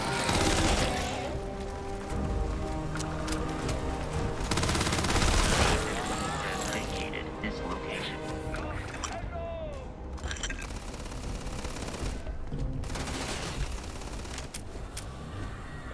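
Video game gunfire crackles in rapid bursts through a dense, busy mix, fairly loud throughout with sharper clusters of shots, while game sounds and speech-like voices run underneath.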